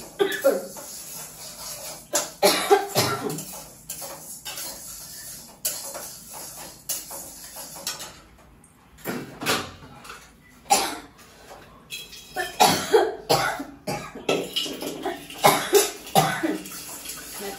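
Repeated coughing bursts in a busy kitchen, mixed with clattering and running-water noises, some coughs sharp and close, others muffled.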